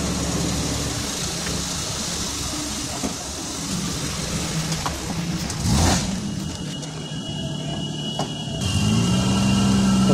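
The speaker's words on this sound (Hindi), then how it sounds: "तो गाड़ी हमारी चालू हो गई है" A Maruti 800 car engine idles steadily after starting, a continuous low rumble with a brief louder swell midway and a rise near the end, with no talking.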